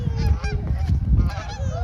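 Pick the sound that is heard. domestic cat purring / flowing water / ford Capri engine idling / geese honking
geese honking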